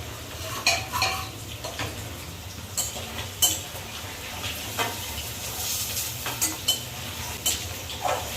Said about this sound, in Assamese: ইটো চাইডে পনীৰ ভাজি আছোঁ আৰু এইফালে মাংসৰ পিঁয়াজখিনি ভাজি আছোঁ